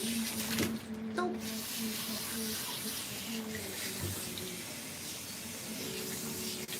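Running water from a tap rinses shampoo out of a long-haired Persian cat's coat during grooming, a steady hissing spray with soft splashing and faint background voices.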